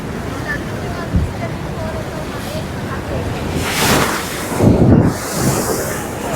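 Rushing water roars in a steady, broadband wash through 26 open gates of the Nagarjuna Sagar dam, with gusts of wind buffeting the microphone and swelling surges.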